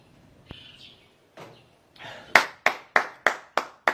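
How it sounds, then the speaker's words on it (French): A few hands clap in a sparse, slow series of sharp claps at a gathering, about six distinct strikes toward the end after quieter scattered sounds. "Applaudissez pour lui."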